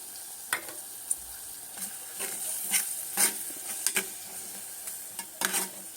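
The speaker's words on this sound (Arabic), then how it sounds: "دلوقتي هنزل بقى بالخضرة بتاعتنا" Vegetables going into a pan give a soft, continuous sizzle, broken by irregular scrapes and clicks of stirring at moderate distance, with no talking.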